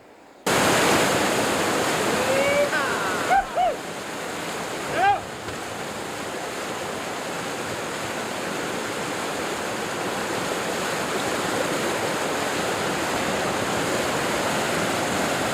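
Whitewater rapids at Dimple Rock on the Youghiogheny River, a steady broadband roar of rushing water that holds throughout, with a few brief high squeaks near the start and no speech.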